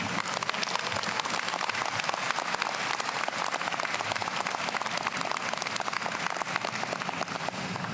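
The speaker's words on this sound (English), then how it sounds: "Please join me giving a warm round of applause to our president, Dr. Jonathan Jefferson." A large crowd at a community college commencement ceremony claps in sustained, even applause, a dense wash of hands that holds steady at a moderate distance for the whole stretch, with no voices above it.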